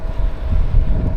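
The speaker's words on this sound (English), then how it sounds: "It's windy." Strong wind buffets the microphone while cycling in traffic on a bike commute from Orange to Irvine, a steady low rumbling roar throughout the short moment with no talking.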